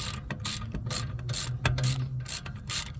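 A ratchet clicks in quick, rhythmic bursts as it tightens the rear brake caliper bolts on a 2015 BMW 535i, close up and crisp, with no talking.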